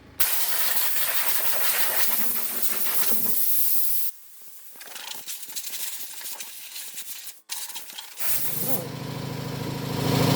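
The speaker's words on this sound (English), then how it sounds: "And then we just get the air blower and get rid of some more fluff." A compressed-air blower blasts fluff out of a lawn mower in loud broadband hissing bursts, strong at first, easing to a softer, broken hiss, then surging loud again near the end.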